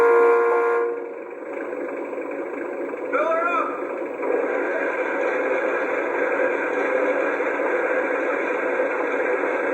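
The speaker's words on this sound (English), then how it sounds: "Here is the fuel fill-up sound." Fuel fill-up sound effect from a Lionel LionChief Plus 2.0 Santa Fe model locomotive, a steady mechanical hiss and whir with a brief warbling tone in the middle, played close and continuous.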